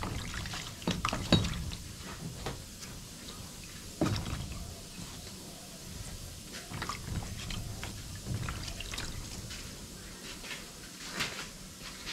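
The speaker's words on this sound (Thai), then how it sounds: "ตอนนี้เราก็ได้ขอล้างมือก่อน" Running water while hands are washed, with splashes and pouring at a moderate distance, a few louder knocks and bumps over a continuous wet background.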